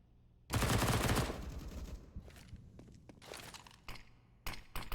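Rifle spray in a Counter-Strike match on Mirage, where a sustained, loud burst of rapid automatic fire lasts about a second. A few scattered shots and clattering game sounds follow, with more bursts near the end.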